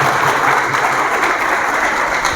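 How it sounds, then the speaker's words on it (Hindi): Loud, steady applause from an assembled audience at an organisational gathering, a dense wash of clapping that holds evenly without pause, with no voices rising above it. "एक बार जोरदार ताली की अपील करूँगा अपनी।"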